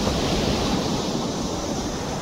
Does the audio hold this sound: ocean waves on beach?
yes